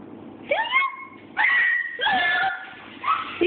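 Dog whimpering and yipping in short excited bursts, high whines rising and falling in four separate calls close by over a quiet room.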